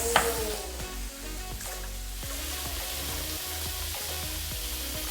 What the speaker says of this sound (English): You really want to hear that sizzle.